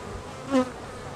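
Honey bees buzz at a beehive, a short close buzz swelling and fading within about a second.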